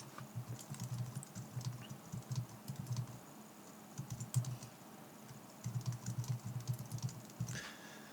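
Numbers are tapped out on a computer keyboard in quiet, close clusters of light clicking keystrokes with short pauses between bursts, over a low background hum.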